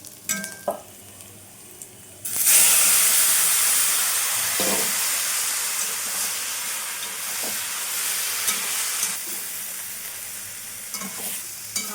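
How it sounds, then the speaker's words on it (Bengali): Whole cumin seeds drop into hot oil for a fish curry and burst into a loud, steady sizzle that starts suddenly and keeps hissing, with a few faint clinks and stirs before it begins. "চচ্চড়ির মধ্যে আমি একটু গোটা জিরে ফোড়ন হিসাবে দিচ্ছি"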